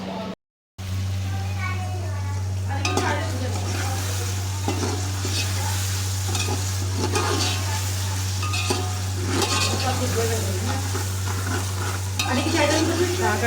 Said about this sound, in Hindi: बस भून के मैं इसे अच्छी तरह भून लेती हूँ